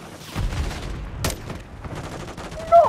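Marksman rifle shots in Call of Duty, a few sharp cracks at irregular intervals, one standout shot in the middle, over quieter game ambience.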